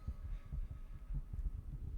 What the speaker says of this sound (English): You hear an arrhythmic beat below your feet,